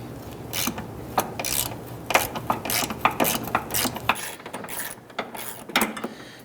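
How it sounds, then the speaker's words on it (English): Close ratchet clicks and metallic rasping as a 10mm deep socket loosens a starter bolt on a 1994–2004 Ford Mustang 3.8L V6, in short irregular bursts of rapid clicking with brief pauses. "get our 10mm deep socket in there, and loosen and remove this"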